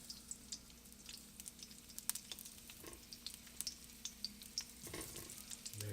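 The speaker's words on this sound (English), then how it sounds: "oil is hot already. Let's put the onion rings." Onion rings fry in hot oil with a soft, steady crackle and scattered sharp pops, fairly quiet and without any talking.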